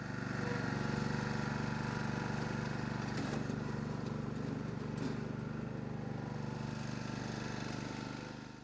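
A tractor engine drones steadily and near as it pulls a disc harrow weighted with bricks across a field, a continuous low rumble with faint rattling that fades slightly at the end.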